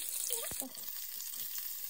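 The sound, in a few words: spices tempering in hot oil for paneer bhurji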